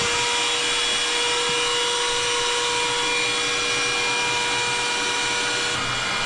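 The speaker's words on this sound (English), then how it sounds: "We're going to turn on the vacuum and we're going to apply this to that little pinhole" A vacuum runs steadily on a boat hull, drawing filler into a small pinhole, giving a constant loud whine and rush of air with a faint change near the end, no voices over it.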